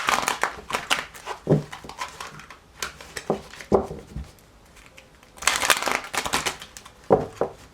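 Repeated riffling and slapping of a deck of cards being shuffled, in several brisk bursts with short pauses between.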